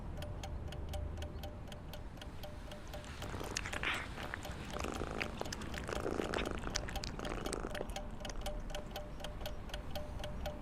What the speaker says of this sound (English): Psst, psst, psst. Eat well, kitty cat.